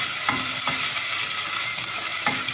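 Tomato paste with black pepper, red pepper and mint sizzles loudly in a pan, a dense steady frying hiss close up, with a few light stirring scrapes.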